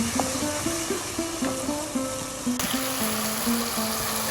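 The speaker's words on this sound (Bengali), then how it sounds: "মশলাটা ভালোভাবে কষিয়ে নিচ্ছি মশলা থেকে তেল ছেড়ে দিচ্ছে" Spice paste sautéing in oil as it releases its oil, a soft continuous sizzle and crackle with faint clinks of a spoon stirring in the pan.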